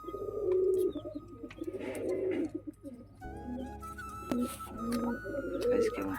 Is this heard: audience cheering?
no